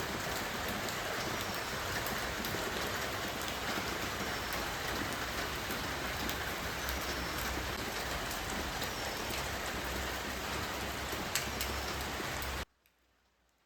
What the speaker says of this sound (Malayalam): ഇന്നലെ രാവിലെ ഒരു വേനൽ മഴ ഒക്കെ, നല്ല ഒരു മഴ